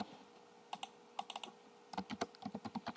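Keys on a computer keyboard are struck in light, irregular clicks, with a few sparse taps early on and then a quicker run of typing near the end, all close and fairly quiet.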